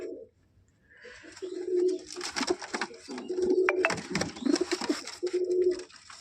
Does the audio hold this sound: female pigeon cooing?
yes